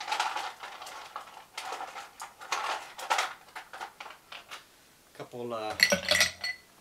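Large ice cubes dropped into a pint glass for a Sidecar cocktail, a quick run of hard close clinks and rattles near the end, following scattered knocks of glassware and a brief spoken word.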